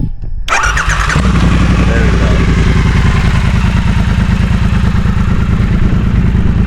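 A Triumph scrambler motorcycle engine cranks and fires up, then settles into a loud, steady, throbbing idle close by, with a cat still fitted in the exhaust; a brief voice is heard just as it catches.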